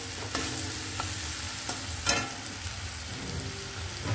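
Shrimp with salt and turmeric stirred in a frying pan, a steady close sizzle broken by a few sharp scrapes and clinks of the spatula against the pan.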